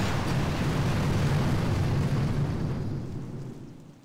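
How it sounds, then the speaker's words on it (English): Rocket explosions in the mobile strategy game Boom Beach: a dense, loud rumbling barrage of blasts holds steady for nearly three seconds, then fades away. "I'll just use my rockets again"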